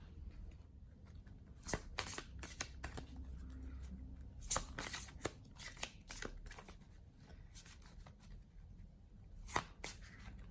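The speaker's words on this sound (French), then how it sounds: "je vais vous tirer une carte conseil pour cette relation" Tarot cards riffled and drawn during a sentimental reading, giving bursts of crisp flicking and snapping spread over the span, each short and close, with quiet gaps between them and no talk.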